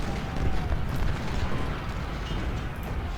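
Civil War cannon fire in Ultimate General: Civil War, a continuous dense rumble of overlapping booms at moderate loudness, steady across the whole stretch.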